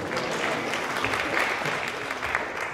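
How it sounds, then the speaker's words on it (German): A lecture audience claps at a lecture about the Walt Disney Company, dense continuous applause from many hands that stays steady for the whole few seconds, fairly loud and close, with no talking over it. "Wow! Applaus!"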